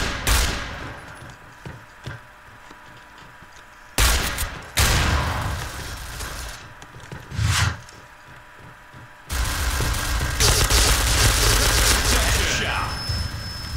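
Gunfire in the shooter game Point Blank, a few loud separate bursts of shots spaced apart, then a longer dense stretch of firing near the end, with some talk around them.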